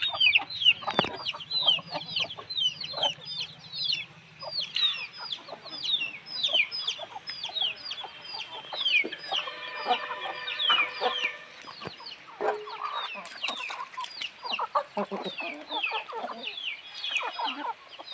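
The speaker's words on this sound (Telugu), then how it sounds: "ఎక్కడైతే కోళ్ళు గుడ్డు పెట్టడానికి ఇలా సెట్ చేస్తాము, ఇక్కడికి వచ్చి గుడ్డు పెట్టేసి వెళ్ళిపోతుంది" Hens cluck steadily around a nesting spot set up for egg laying, with many overlapping calls close by and lively small-bird chirps throughout; no one speaks.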